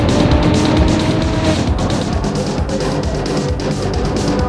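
Drag racing cars, a Corvette against a Nissan, at a raceway, with loud sustained engine roar that stays dense and near throughout, without talk.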